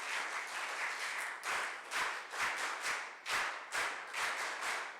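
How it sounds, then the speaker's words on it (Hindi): An audience at a girls' character-building camp gives hearty applause of welcome, swelling in waves of close, loud clapping broken by brief dips, with no voices. "एक बार जोरदार वीर ताली बजा करके इनका स्वागत करें।"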